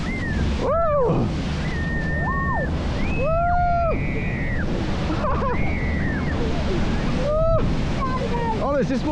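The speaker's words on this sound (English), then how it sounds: "there's this waterfall" Rushing, roaring water from a waterfall on the Efteling Pirana rapids ride, a steady loud wash that runs through the whole clip, with riders shouting and squealing over it.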